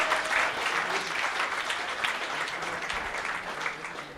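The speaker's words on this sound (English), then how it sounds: "Give him a big, big round of applause, please" Audience applause at a live charity event in Johannesburg, continuous crowd clapping with a few cheers, holding steady and easing slightly toward the end.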